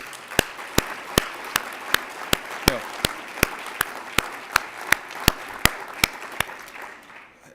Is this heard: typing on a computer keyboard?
no